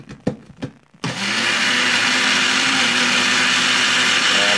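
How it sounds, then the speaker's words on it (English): A Magic Bullet blender whirs loudly and steadily, blending egg crêpe batter after a few brief taps at the start. "And I'm going to throw it into the magic bullet."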